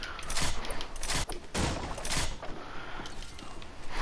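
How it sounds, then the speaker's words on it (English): An egg launcher fires in the Fortnite video game, a run of sharp, close bursts and thumps, strongest early on and spaced unevenly through the stretch. "Egg launcher, love them."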